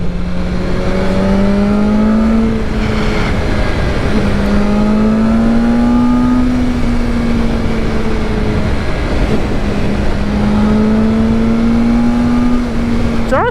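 A 2023 BMW M1000R Competition motorcycle accelerating hard in race mode, its engine loud and close as it rises and falls in repeated gear-by-gear pulls, with short drops between shifts.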